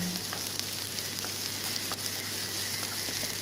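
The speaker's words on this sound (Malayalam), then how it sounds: "ഇഞ്ചിയും വെളുത്തുള്ളിയും പേസ്റ്റും ചെറുതായി അരിഞ്ഞു വെച്ച പച്ചമുളകും ഒന്ന് ചേർത്ത് നന്നായിട്ടൊന്ന് വഴറ്റിയെടുക്കാം" Onion, ginger-garlic paste and chopped green chili sauté on low flame in a pan for chicken rolls, giving a steady, moderately loud sizzle with faint stirring ticks; no talking.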